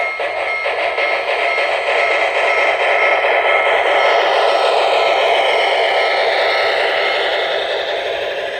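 An HO-scale Trix Big Boy 4019 model train, pulling a very heavy load, runs steadily along its track, a continuous close-up rumble and clatter with no pauses and no voices.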